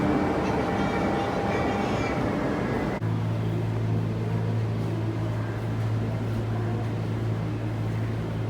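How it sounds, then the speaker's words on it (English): A subway train at Quarry Bay station rumbles in continuously, with a broad roar and then a steady low hum of the motors, loud and close throughout. "Oh, next one M train now."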